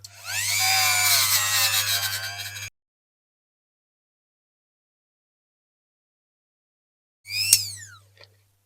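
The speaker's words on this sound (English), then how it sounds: "we'll get one of those little abrasive wheels on it now" A rotary tool fitted with a small abrasive wheel polishes a diecast Dinky Studebaker tanker model. A high, steady whine runs for about two and a half seconds, then silence, then a short second burst near the end.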